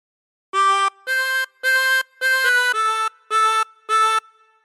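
A chromatic harmonica plays a short phrase of the Star Spangled Banner, seven clear sustained notes with brief breaths between them, close and alone.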